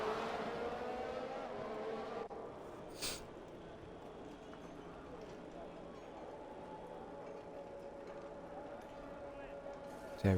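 On a race circuit in Mexico, race car engines drone and whine from a distance during the formation lap, with a shifting rumble, a brief burst near the middle and a louder surge at the end, under commentary.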